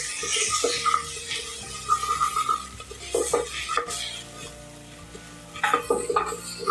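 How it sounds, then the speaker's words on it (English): Ginger, garlic and onions sauté in a pan with a steady sizzle, broken by repeated scraping and stirring strokes and soft clinks of a utensil against the metal. "Continue sauteing this until the raw smell of the ginger garlic is gone away"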